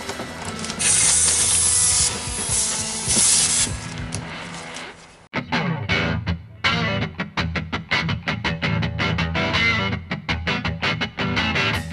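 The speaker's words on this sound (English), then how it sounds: "now you can take the end that goes into your air source and plug it in, which we'll do now" An Amflo retractable air hose reel is plugged into a wall air tap: a loud, steady hiss of air for several seconds, then a sudden stop followed by a run of quick mechanical clicks and rattles.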